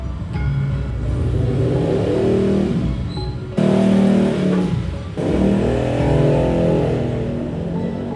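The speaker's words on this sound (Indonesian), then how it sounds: "ada motor brong lagi" A motorcycle with a loud open exhaust roars close by, its engine noise swelling and holding steady for several seconds with brief surges, drowning out everything else, with no talk.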